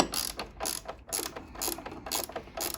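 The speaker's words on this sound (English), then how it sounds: "Let's watch the awesome power of a nut and a bolt do its thing" Nut being wound down a bolt with a ratchet, five or six close clicking bursts in a steady rhythm, near and clear with no talking.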